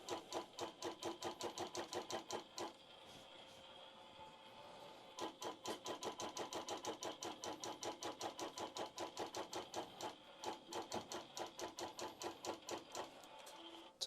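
A longarm quilting machine stitches across the top of a quilt in a fast, even needle chatter. It runs for about three seconds, pauses briefly, then resumes for a long steady run.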